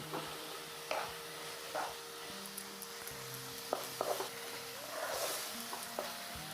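Tomato dropped into frying masala in a curry pan for an Odia cauliflower curry, a quiet steady sizzle with scattered clicks and scrapes of stirring.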